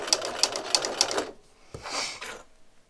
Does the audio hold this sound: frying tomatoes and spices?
no